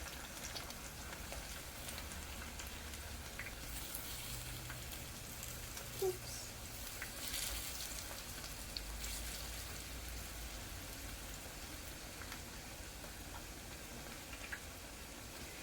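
Plantain pieces cook in oil in a pan, giving a faint, steady sizzle and crackle like light rain, with an occasional small pop.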